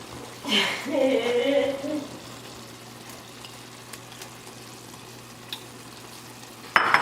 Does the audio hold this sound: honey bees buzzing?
no